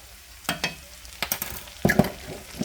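Minced garlic sizzling in a frying pan while a utensil stirs it, with a few scraping strokes and a louder clatter near the end over a soft steady fry, close and alone.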